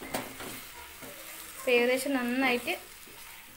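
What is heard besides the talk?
chicken with masala being sautéed in a pan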